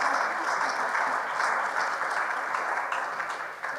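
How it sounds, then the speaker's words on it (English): Audience applauding speakers at a tourism and food event, a steady wash of many hands clapping at moderate distance, continuous and even for the whole stretch. "So please, a round of applause for our speakers."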